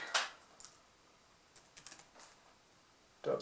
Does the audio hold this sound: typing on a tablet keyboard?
yes